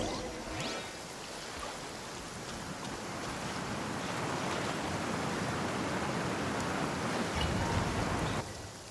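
Rushing water of a massive whirlpool in Genshin Impact, a broad steady roar and swirl that swells slightly before dropping off near the end, with no voices.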